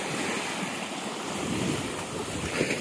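Waves wash up the shore as seawater rises near a fishing net, giving a steady rushing surf with wind buffeting the microphone, no voices.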